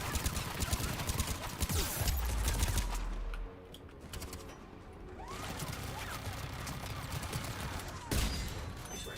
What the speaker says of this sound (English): Oh, that's turret.